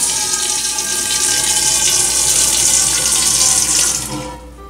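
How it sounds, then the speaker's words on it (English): Hot water pours steadily into a pot for making natural dye from Osage orange, a loud continuous splashing stream that tapers off at the end. "Got some hot water here. Going to add a little bit to my pot."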